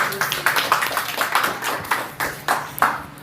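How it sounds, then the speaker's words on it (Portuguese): A church congregation claps together in a rhythmic, fairly close series of hand claps at a steady beat, several people clapping in time with little talk. "Aplauda o Senhor."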